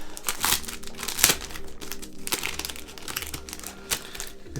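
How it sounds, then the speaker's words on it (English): Packaging for a Fulgur Press tarot deck, The Tarot of Leonora Carrington, is unwrapped with loud, close crinkling and crackling rustles in uneven bursts, some sharper tearing-like crackles, no talking. "If this rustling is really loud on the mic, I'm sorry."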